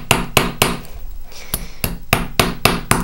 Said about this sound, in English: we're going to go ahead and rivet or start to rivet this one side